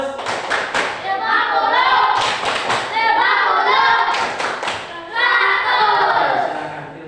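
A group of schoolchildren in an Indonesian classroom clap together in the rhythmic 'tepuk 100' chant, with dense bursts of hand claps repeated in several loud waves and a brief pause between them.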